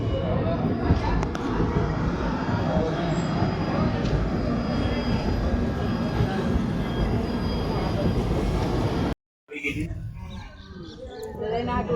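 A passenger express train leaving Maliya station in Gujarat gives a steady, dense rolling rumble on the rails that cuts off briefly near the end and then comes back a little quieter.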